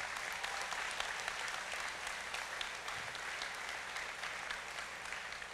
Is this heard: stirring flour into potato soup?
no